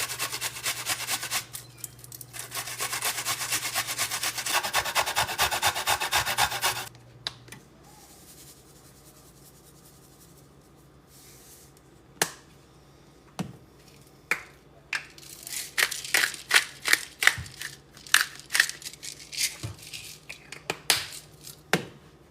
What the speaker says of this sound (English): I just grate it all in while I'm cooking the meat.